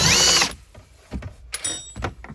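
A ratchet loosens bolts while the interior of a Hyundai Nexo hydrogen fuel-cell car is taken apart: a burst of rapid clicking opens the clip, followed by scattered metallic knocks and clicks, close by.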